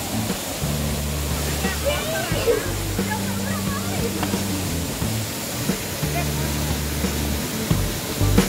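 Water from the Curug Cibiru waterfall, about ten metres high in Nagrak village, rushes in a steady roar while someone talks over it throughout.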